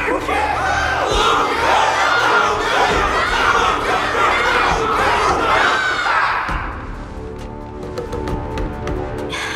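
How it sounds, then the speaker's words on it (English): A large crowd cheers and roars in the Honkai Star Rail game during the Luminary Wardance Ceremony battle. The roar is loud and steady at first, then thins to scattered shouts and claps. "Can't you hear? Everyone's cheering for you, Luca!"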